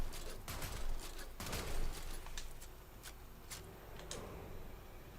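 Rapid bursts of gunfire from the Xylock weapon in a video game, dense crackling shots in quick clusters, close and loud, with no talking over them.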